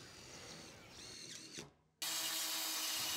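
A power drill runs while pre-drilling and driving screws into Bison cement-bonded panels on a tiny house wall: a whining motor that slows and strains, a brief pause, then a loud steady high spin, close up.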